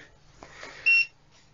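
An Aixun T3A soldering station gives one short, clear electronic beep as it powers on, with quiet background hum before and after.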